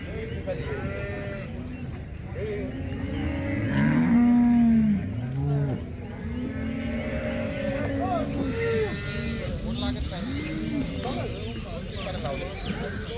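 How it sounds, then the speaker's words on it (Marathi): Cattle at a cow market in Baramati, Maharashtra, where Jersey cows and heifers are sold, moo repeatedly with several loud, drawn-out calls from different animals over a steady murmur of the crowd and market noise. "कालवडी जर्सी गाय लाखा सव्वा लाखापर्यंत गुरं विक्री विक्रीसाठी आलेले आहेत"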